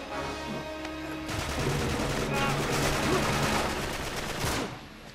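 Bursts of rapid gunfire in the Uncharted 3 video game, dense crackling volleys layered over a droning in-game background, sustained and fairly loud throughout.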